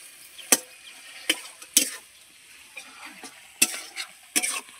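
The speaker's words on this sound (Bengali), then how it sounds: "ছোলাটা বেশ কিছুক্ষণ কষিয়ে নেওয়ার পরে এই যে ডাঁটার নূতটা বের করে রেখেছিলাম সেটাকে এবার কষাবো" Boiled chickpeas and drumstick pulp are sautéed in a hot pan with a soft, steady sizzle, broken by a series of sharp spatula scrapes and stirring clacks at uneven intervals.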